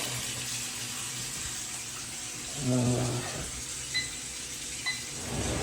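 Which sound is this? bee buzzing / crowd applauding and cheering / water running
water running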